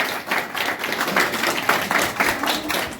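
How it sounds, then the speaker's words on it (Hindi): Guests clapping at a Buddhist wedding ceremony, a moderate round of scattered hand claps that keeps going steadily for several seconds. "ताली बजाइए, ताली बजाइए।"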